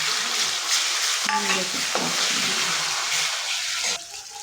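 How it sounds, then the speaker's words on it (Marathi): Dry mutton curry cooks in a pan over a wood-fired clay stove, giving a steady close sizzle with intermittent scraping and clinks of stirring. "इथं आमचं सुकं मटण चालू आहे बनवायला"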